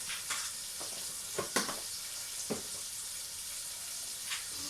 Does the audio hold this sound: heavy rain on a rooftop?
no